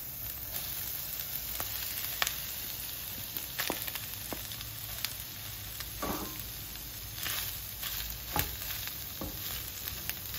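Tempeh frying in a pan for a vegan kebab, a steady low sizzle running throughout with a few sharper crackles and stirring scrapes scattered over it, close and fairly quiet.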